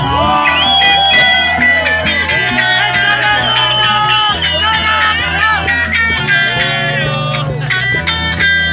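A live festival crowd shouts, whoops and cheers for a band's guitarist, loud and sustained for several seconds, blended with amplified music and stage voices.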